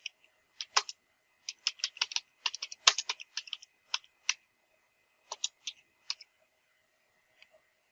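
Keys on a computer keyboard tapped out in short irregular bursts while entering a command to install Apache on a Rocky Linux 9.3 machine, crisp close clicks with brief pauses, no voices.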